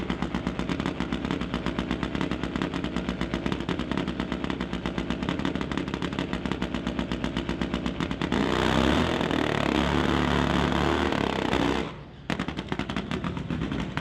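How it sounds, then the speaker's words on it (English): A supercharged Top Fuel Harley-Davidson drag bike at a race meet crackles in a loud, rapid machine-gun-like staccato, swells into a heavier roar, then cuts off sharply before a brief resumption. "So you can hear the distinctly different engine note for Damian. That is because this bike is supercharged"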